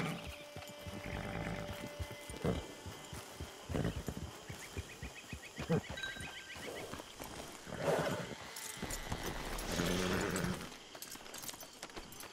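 Horse hooves clip-clop in the Red Dead Online video game, soft rhythmic hoofbeats mixed with game sounds and music while characters talk.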